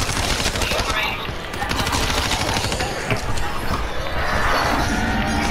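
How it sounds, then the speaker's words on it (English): Ray Gun Mark 2 firing in Black Ops 3 Zombies on the Origins map, a loud, dense stream of rapid energy-blast shots with game noise running continuously throughout. "In all of its glory, Ray Gun Mark 2"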